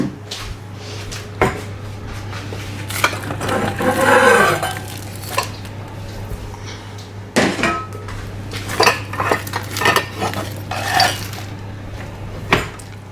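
Metal pots and a frying pan clanking and scraping as they are handled near induction hobs, with several sharp bangs and clinks at irregular intervals, close by.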